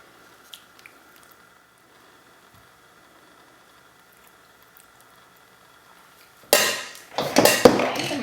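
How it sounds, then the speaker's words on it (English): Ricotta spooned onto lasagna layers for a BBQ pulled pork lasagna: near silence, then a loud burst of wet squishing, spoon scraping and clinking against the dish near the end. "I'm going to put some ricotta on top."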